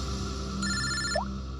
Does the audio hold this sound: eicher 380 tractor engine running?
no